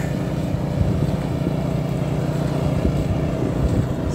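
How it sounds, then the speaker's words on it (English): Outdoor wind blows steadily over a snowy driveway in winter, a loud, continuous low rumble with gusty buffeting. "A bit of wind blowing here today."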